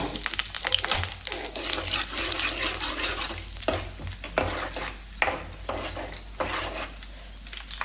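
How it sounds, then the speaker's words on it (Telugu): Mustard seeds, urad dal and chana dal fry in hot oil with a steady close sizzle, joined by occasional stirring scrapes and pan clinks, with no talk. "ఆవాలు మినపప్పు శనగపప్పు ఇది వేగిన తర్వాత అప్పుడు కరివేపాకు వేద్దాం"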